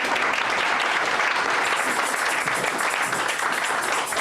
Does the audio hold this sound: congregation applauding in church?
yes